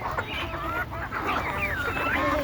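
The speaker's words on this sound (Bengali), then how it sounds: "এই দেখছেন এটা হচ্ছে বড় বড় কাদাকনাথ মুরগি" Several Kadaknath chickens squawk and honk in overlapping, busy calls, a noisy flock close by with a steady murmur underneath.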